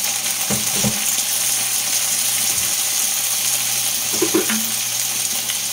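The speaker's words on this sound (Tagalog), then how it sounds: "Naglagay ako ng tubig sa unti lang." Water added to a pan of sweet and sour chicken with chili sauce: a steady hissing sizzle with a few soft splashy pours and stirs, close and continuous, no speech.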